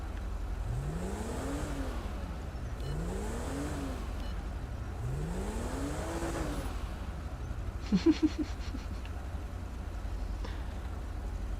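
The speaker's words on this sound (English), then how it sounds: "if you guys are curious about the engine sounds I'm using for these police vehicles" Police car engine in GTA V revving up and falling off in three rising and falling sweeps, followed by a short burst of clicks and then steady idle, heard alone with no talk.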